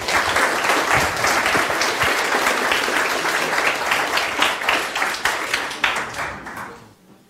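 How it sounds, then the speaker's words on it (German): An audience at a youth hackathon's closing presentations in Hamburg claps for a project team, a thick, even wash of applause that holds steady for several seconds and then fades out at the end. "Applaus für die Gruppe Endium."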